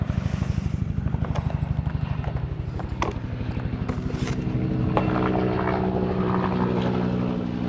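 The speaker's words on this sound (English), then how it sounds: "got a big old helicopter coming overhead here" A large helicopter passes overhead, its rotor chopping in a steady, loud low pulse that smooths into a continuous roar as it comes closer.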